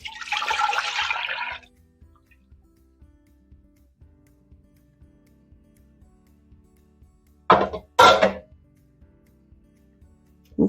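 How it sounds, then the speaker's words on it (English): Peach scrap juice is poured into a pot in a home kitchen, giving a soft splashing gush for about a second and a half. After a quiet pause, two more short pouring splashes follow close together. "So let's get this juice into the pot."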